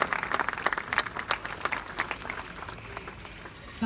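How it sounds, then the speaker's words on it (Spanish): Audience applause for honored guests at a peace commemoration event, many hands clapping in a dense burst that stays steady for several seconds before gradually thinning out, with no voices over it. "un aplauso, por favor, de verdad, para todos ellos"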